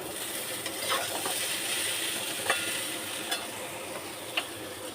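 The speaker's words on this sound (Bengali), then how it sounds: "আলু ভাজছি।" Potatoes fry in a pan at home, giving a steady close sizzle with a few light scrapes and stirring clicks scattered through it.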